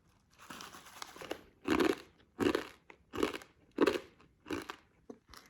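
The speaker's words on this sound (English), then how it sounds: "They're so crunchy." Loud, close crunching of a crisp snack being chewed, several rhythmic bursts of crackly bites with short pauses between them.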